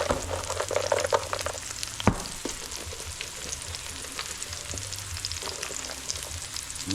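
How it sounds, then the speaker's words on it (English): Shallots and garlic frying in a pan for Thanksgiving stuffing, a steady close sizzle with crackling pops and one sharp utensil knock early on, no voices. "shallots, garlic, cooking nice"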